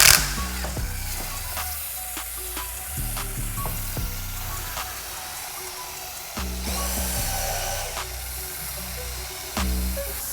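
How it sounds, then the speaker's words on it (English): A power drill brush whirs and scrubs in bursts during car detailing, a buzzing motor with a hissing, frothy scrubbing texture, close and fairly loud. "most detailers and prosumers like to use, the handy dandy drill brush"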